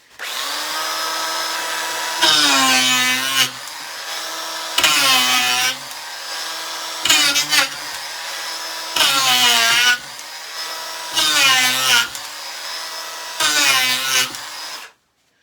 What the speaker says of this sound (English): for that I have to use the planer over there